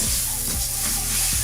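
Lunch meat and egg mixture is stirred into rice in a hot pan, a steady sizzle broken by a few scraping strokes of the utensil.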